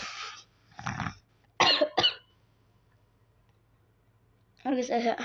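Several harsh coughs close to the mic: two short bursts, a quick pair, then a longer rough cough after a pause.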